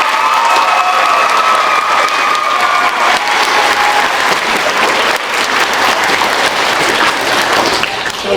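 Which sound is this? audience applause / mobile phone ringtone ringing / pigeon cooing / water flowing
audience applause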